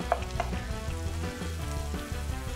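Chopped garlic and onion sizzle steadily in a pan, a close, soft frying crackle with a few light stirring knocks.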